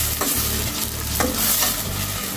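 A spoon stirs blended spices, salted lightly, around a hot frying pan for a Bengali bele fish dish. A steady sizzle runs throughout, with a few distinct scraping strokes close by and no talking.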